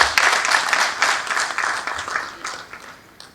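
Applause from a conference audience at an engineering school's opening session: a dense, steady patter of many hands clapping together, loud at first and thinning and fading toward the end.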